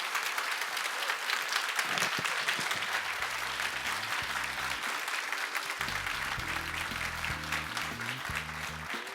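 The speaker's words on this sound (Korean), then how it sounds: "명강의를 해주신 우리 최태원 회장님께 다시 한번 큰 박수 부탁드리겠습니다" An audience applauds after a corporate lecture by the SK chairman at POSCO, with steady, dense clapping from many people sustained throughout while low tonal music plays beneath it.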